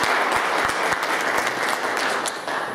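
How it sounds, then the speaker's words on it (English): A meeting audience gives a round of applause to welcome a new club president, dense sustained clapping at steady loudness throughout. "We'd like to give you a round of applause and welcome you."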